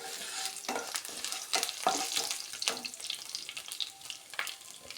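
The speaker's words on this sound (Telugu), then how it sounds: "మెంతులు జస్ట్ 1 మినిట్ వేగిన తర్వాత కొద్దిగా జీలకర్ర అండి, తర్వాత 2 ఎండుమిర్చి, ఒక వెల్లుల్లి, కొద్దిగా కరివేపాకు" Fenugreek seeds, cumin, dried red chillies, garlic and curry leaves crackle and sizzle in hot oil for a sambar, with bursts of spattering and stirring scrapes rising and falling, no voices.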